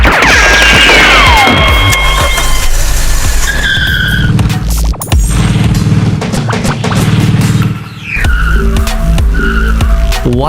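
A cartoon car peels away with a long, loud tire squeal and skid, engine revving beneath, followed by a brief boom and more squealing as it speeds off, close and dominant with no talk.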